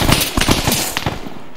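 Rapid gunfire in a military combat setting: a dense, loud burst of repeated sharp shots at close range that thins out toward the end.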